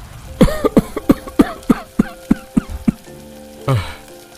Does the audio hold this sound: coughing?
yes